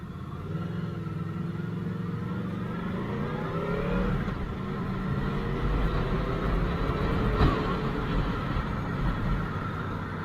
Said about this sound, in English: that's an R8